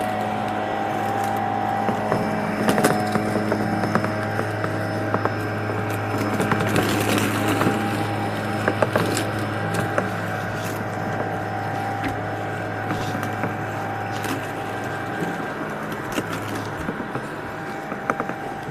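Lymow One robotic lawn mower driving across a sloped lawn on a long run, a steady close motor whir with a constant low hum and faint mechanical rattles throughout, no talking.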